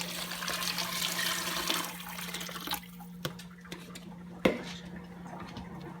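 Two quarts of stock pour into a pot of hot honey brine, a soft, close liquid gush and splash over a steady low hum, tapering off into a few faint clinks and drips.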